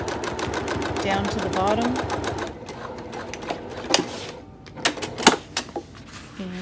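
A sewing machine runs in a steady fast stitching chatter across a handbag exterior panel seam, then slows to a few separate stitches with small clicks and thumps, while someone talks over it.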